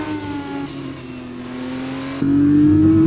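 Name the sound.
video game race car engine, in-cockpit sound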